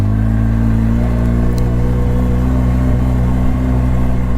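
A 2014 Polaris RZR 800 EPS side-by-side with 50-inch width drives off, its engine droning loudly and steadily at close range with a continuous mid-pitched hum and rumble, no talk over it.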